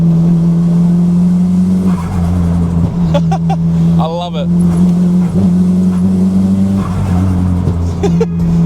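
A loud Nissan Silvia S15 exhaust drones steadily and rumbles off nearby walls on a mountain drive, with a few brief squeals and a short remark spoken over it.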